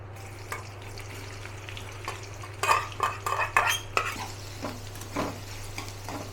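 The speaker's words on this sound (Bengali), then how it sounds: "তেলের ভেতরে পেঁয়াজ রসুনটা ছেড়ে" Onion and garlic sizzling in hot oil while a utensil scrapes and clinks against the pan, with a bright burst of stirring clatter in the middle over a steady low hum.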